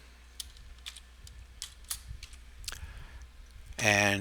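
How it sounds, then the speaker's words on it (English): Fingers tap a computer keyboard in quick, uneven bursts of light clicks, close and quiet, while setting up a DNS host record; a voice starts speaking right at the end. "And what I would like you to type in"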